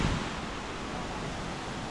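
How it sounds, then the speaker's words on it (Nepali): Charlang waterfall, also called Nalmo waterfall, in Khaniyabas, Dhading, Nepal, a steady broadband rush of falling water that fills the whole scene at an even, constant level. "यो देख्न सक्नुहुन्छ च्यार्लङ झरना"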